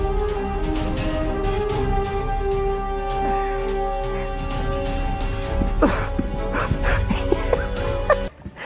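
A husky barks and yips in a string of high, whiny calls and short yelps, close by and fairly loud, its voice sliding up and down with a few sharper cries near the end.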